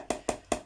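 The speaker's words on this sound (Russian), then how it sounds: "Тоже я режу ножиком" Three sharp knife chops slicing sausage on a cutting board, evenly spaced, close and moderately loud, each with a short decay.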